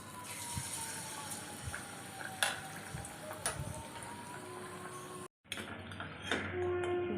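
Malpua batter fries in hot oil, a quiet, steady sizzle and bubbling with a few soft clinks and taps of utensils, broken by a brief silent gap near the end.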